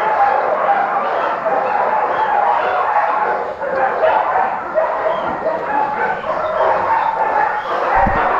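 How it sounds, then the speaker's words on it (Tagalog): Continuous noisy barking and yipping from a dog, close and loud, with whimpering notes and a rough, busy background throughout. "pasensya na kayo kung maingay yung aso natin"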